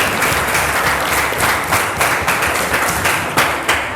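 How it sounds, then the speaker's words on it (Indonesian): A cooking class applauds a classmate, a dense and loud round of many hands clapping together that holds steady for several seconds with no talk over it. "kasih tepuk tangan Mansri dulu"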